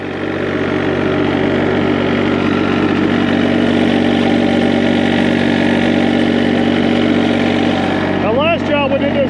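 A tractor engine turns a water pump at a lake dirt-moving job, a loud, steady mid-pitched drone that runs without a break, with a brief chirpy sound near the end.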